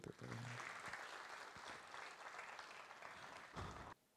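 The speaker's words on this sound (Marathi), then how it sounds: "खूप खूप धन्यवाद, टाळ्या होता त्यासाठी" A comedy-show audience at a Marathi stand-up special claps in a dense, steady wash of applause that carries on for about four seconds, then cuts off abruptly.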